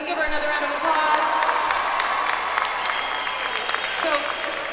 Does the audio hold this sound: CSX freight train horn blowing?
no